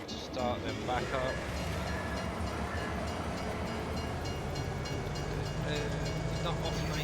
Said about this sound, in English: It's not often I use the train system, to be honest, on here.